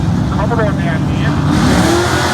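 A loud Holden Commodore drag car engine revs hard and accelerates at street drags, roaring with rising pitch against crowd and track noise.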